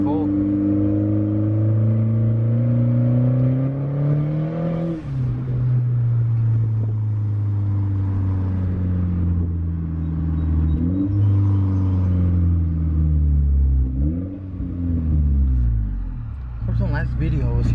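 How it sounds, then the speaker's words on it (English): A car engine revs hard through a second-gear pull, its deep drone climbing in pitch, then dropping sharply at about three points before climbing again. The engine is loud and close throughout. "let's do another second gear pull"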